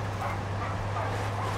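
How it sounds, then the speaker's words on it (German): Bloodhounds bark in the video game Far Cry 6, a steady stretch of dog barking and yipping over a low constant game hum, with no talk. "Die Hunde tun noch nichts. Das sind Bluthunde."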